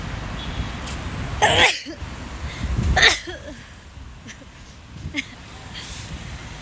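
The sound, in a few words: sneezing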